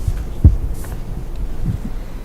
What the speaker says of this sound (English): I was hearing the character's heartbeat for a moment.